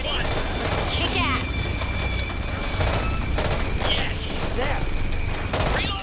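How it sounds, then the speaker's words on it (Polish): Gunfire from a three-round burst weapon in the video game Back 4 Blood crackles amid dense game noise and effects, with a player's voice talking over it. "A taka specjalna broń, co bije seriami po trzy strzały."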